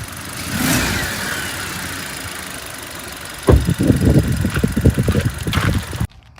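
A Toyota Taisor compact car's engine idles up close with a smooth, even hum that turns rougher and more pulsing partway through before cutting off abruptly near the end.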